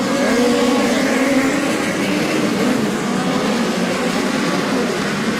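Midget race cars in a POWRi National Midget League race at Lincoln Speedway, a dirt track, roar past as a loud, continuous engine drone with shifting pitch that fills the whole stretch without a break.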